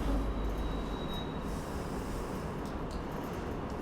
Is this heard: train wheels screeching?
yes